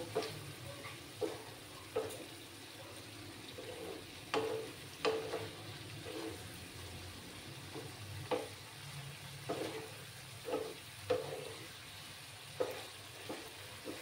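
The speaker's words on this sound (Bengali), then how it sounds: "দিয়ে ভালো করে মশলাটাকে কষিয়ে নেব।" Salted spice paste for Bengali rui posto fish curry sautéing in a pan, with a soft, constant frying sizzle broken by regular scraping taps from stirring, fairly quiet and with no talking.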